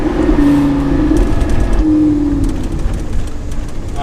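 A Lamborghini's V10 engine drones and shifts pitch while the car rolls over train tracks, with faint rattling thumps from the road.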